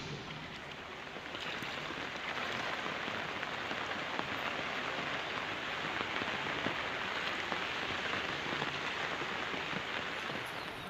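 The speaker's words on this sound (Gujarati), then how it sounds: "જૂનાગઢમાં ગિરનાર પંથકમાં પણ ભારે વરસાદ પડ્યો છે।" Heavy monsoon rain pours down steadily in the Girnar area of Junagadh, Gujarat, a dense, even hiss of drops drumming on surfaces with no voices heard.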